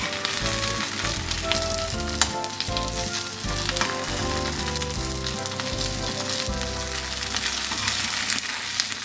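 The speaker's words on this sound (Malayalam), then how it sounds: "ഇതൊരു ഗോൾഡൻ ബ്രൗൺ ആവുന്ന വരെ നമുക്ക് ഫ്രൈ ചെയ്തെടുക്കണം" Batter-dipped oyster mushroom tempura frying in hot oil, a loud, dense and continuous sizzle with steady crackle throughout, close up and without speech.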